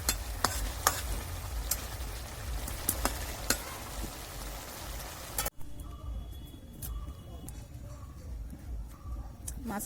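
Fish goes into a pan of frying potatoes, giving a dense, steady sizzle with stirring clicks. The sizzle drops abruptly partway through to a quieter simmer with occasional light taps.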